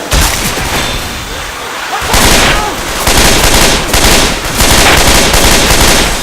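Heavy automatic gunfire fills a zombie shooter, Left 4 Dead 2 on the Hard Rain campaign, as loud, sustained bursts of rapid shots pound with barely a break, the fire surging and easing in waves.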